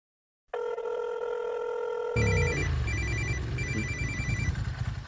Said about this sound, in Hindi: हाँ, रवि के फोन।